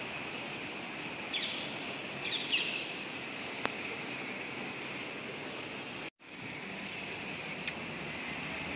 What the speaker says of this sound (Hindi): 9 बजे से बारिश हो रही है, 9:30 बजे से